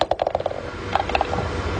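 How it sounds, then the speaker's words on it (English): Golf ball dropping into the cup in a video game: a quick run of small rattling clicks, then a second cluster of taps over a low ambient hum. "ball going in the cup."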